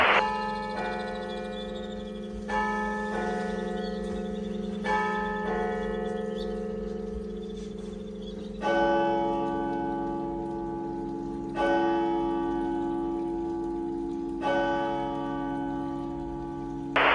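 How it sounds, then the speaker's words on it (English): Church bells in a small Swiss town ring out loud and sustained, a few strikes overlapping into a rich, lingering resonant hum. "Church bells ring every hour, half hour, and quarter hour in small towns in Switzerland."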